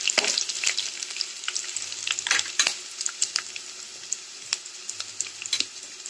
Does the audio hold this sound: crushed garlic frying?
yes